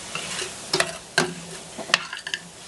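Flour being stirred into strained pie filling for shepherd's pie, with several quick spoon scrapes and knocks against the pot over a faint bubbling sizzle.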